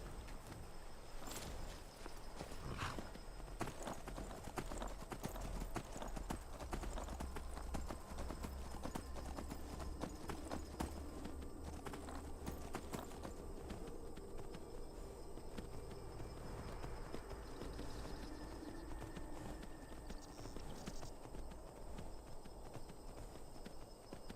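Steady clip-clop of a horse's hooves in a video game, a continuous walking rhythm over faint ambient insect chirps, with little else.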